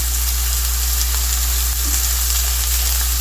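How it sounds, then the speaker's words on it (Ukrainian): Steady, loud sizzling of onion and garlic frying in a mix of vegetable oil and butter fills the whole stretch, with a low hum underneath and no talking. "Обсмажую цибулю та часник на суміші рослинної олії та вершкового масла."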